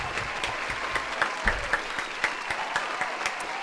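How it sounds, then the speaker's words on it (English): A small group claps in a steady round of applause, with distinct, sharp individual hand claps standing out over a continuous wash of clapping, fairly close. "But round of applause again."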